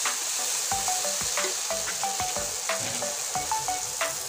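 Half-browned tomato and onion frying in a pan make a close, constant sizzle and crackle, with quick light taps and pops throughout.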